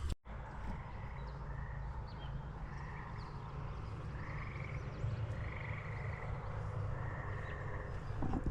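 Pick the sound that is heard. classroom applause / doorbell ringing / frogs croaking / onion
frogs croaking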